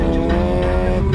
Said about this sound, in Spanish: vamos a hacer un ladito para que pase el carro por aquí